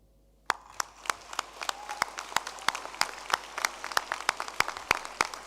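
Separate, distinct hand claps start abruptly and continue in an uneven rhythm from a modest crowd at a class of 2023 graduation ceremony, sounding fairly close with no cheering voices audible.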